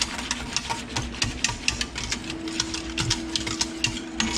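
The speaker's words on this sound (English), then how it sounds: "Give it a good whisk." A whisk stirs milk inside an Instant Pot insert, making a quick, rhythmic clatter of wire against the metal pot, close up and steady, with no voice.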